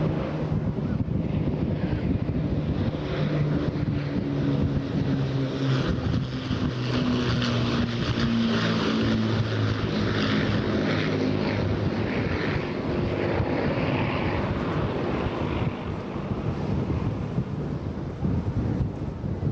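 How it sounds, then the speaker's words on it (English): A Lancaster bomber with Hurricane and Spitfire fighters approach at an airshow, their piston engines roaring in a sustained, throbbing drone with wind buffeting the microphone throughout. "just to appreciate the roar of those iconic engines as they make their initial approach"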